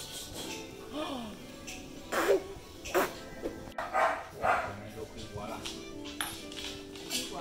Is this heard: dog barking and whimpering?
yes